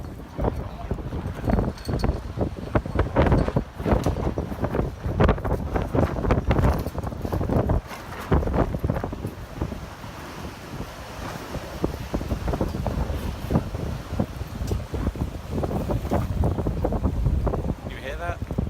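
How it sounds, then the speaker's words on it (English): Strong wind gusts buffet the microphone outdoors at the Olympic Park in Pyeongchang, rumbling and flapping unevenly throughout, with a voice speaking now and then beneath the blustery noise. "You hear that? It's a little bit windy."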